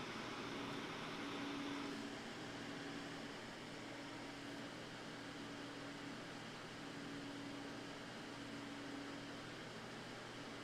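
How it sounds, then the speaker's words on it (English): A PC AIO liquid cooler's fans run under load as a quiet, steady whoosh of airflow with a faint hum pulsing underneath, low in level and with no one talking. "Can you guys hear the fan at all?"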